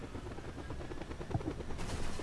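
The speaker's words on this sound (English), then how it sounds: "It's a helicopter." A helicopter in the video game Just Cause 2 gives off a faint, steady rotor chop with low engine rumble, heard alone without talk.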